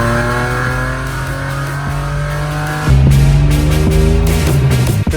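A Eurofed BMW M4 race car with a stage 2 DME tune and aftermarket exhaust revs hard and close, its steady engine drone jumping to a louder, harsher pitch midway and holding there.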